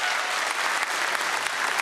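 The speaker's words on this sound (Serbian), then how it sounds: "Molim vas, pozdravimo ih još jednim aplauzom." Dense, steady applause from a seated audience at an anniversary gathering of the Serbian Progressive Party in Smederevo, honouring the performers of the national anthem; continuous even clapping with no voices over it.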